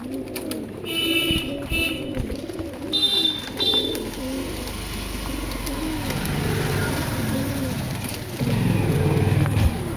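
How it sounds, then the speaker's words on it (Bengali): Madras pigeons in a shop coo in repeated low, throaty phrases close by, with brief higher chirps early on and a steady background of traffic and general shop noise throughout. "আরও অনেক ম্যাড্রাস পায়রা আছে, দেখাচ্ছে ওগুলো।"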